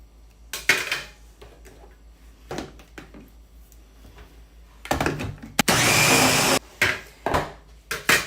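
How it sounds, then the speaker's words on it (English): A kitchen blender whirs through onion and tomato in loud bursts, short pulses first, then a sustained full-power run of a second or so, with clattering and handling between bursts. "I start already blending onion and I'm adding here tomato"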